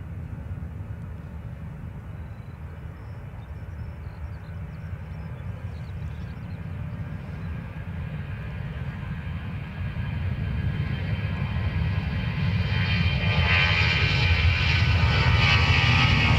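An aircraft takes off on runway 28 right at Dublin Airport, its engine roar building steadily from a broad rumble to a louder, brighter swell as it nears, with no voices over it.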